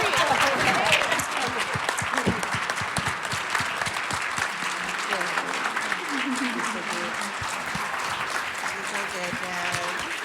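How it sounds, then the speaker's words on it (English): Sustained audience applause at a live CalWORKS training panel for the parents on stage, a thick continuous clapping that runs throughout, with voices talking faintly beneath it. "I'd like us all to give another round of applause for all of these parents here today"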